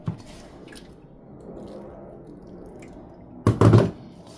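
A short, close splash of warm water poured into wheat flour, preceded by faint wet drips and quiet handling sounds.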